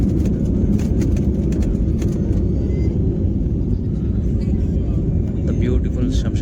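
An IndiGo jet roars through its takeoff run at Shamshabad airport, a loud continuous low rumble heard from inside the cabin with faint rattles on top.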